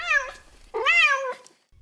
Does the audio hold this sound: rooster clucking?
no